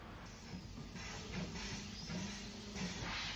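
Steam locomotive No. 30 Shorewell on the 1950s–60s Isle of Wight railway, pushing coaching stock along the platform at Pier Head, heard as a faint, steady hiss and low rumble with soft rhythmic chuffs and no talking.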